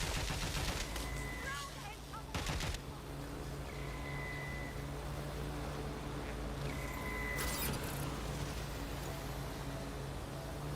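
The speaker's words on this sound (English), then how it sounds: "Stop shooting at me" Rapid bursts of video game gunfire crack out in sharp clusters, with a couple of louder volleys standing out over a constant noisy background of in-game sound.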